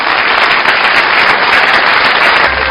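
A large theatre audience at a Yue opera gala applauds to welcome performer Wu Fenghua back to the stage. The clapping is loud, dense and steady, with no talk over it.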